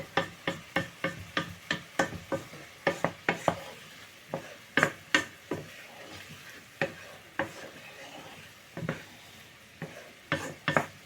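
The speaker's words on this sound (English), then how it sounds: "And meanwhile it's sizzling, you just turn it down to a lower temperature so it doesn't burn" Chickpea curry with rice and mixed vegetables cooks on the stove, with a soft sizzle under a series of sharp, regular knocks and taps from stirring against the pan, close and fairly quiet.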